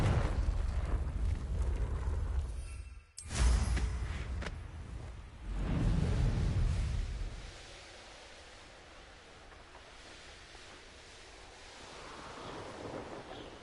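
A Confringo spell blast in Hogwarts Legacy bursts out as a loud, roaring whoosh around three seconds in. A second rumbling surge follows. The sound then fades into a softer, airy wash that carries on with no talking.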